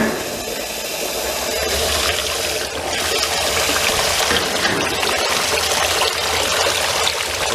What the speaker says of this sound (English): Alright, we have water coming in.